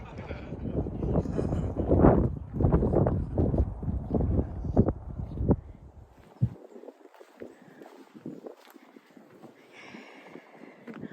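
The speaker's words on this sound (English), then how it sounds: "It's windy here on the top." Gusty wind buffets the microphone on an exposed Pennine Way hilltop, heavy and rumbling at first, then easing to a lighter, breezy rush.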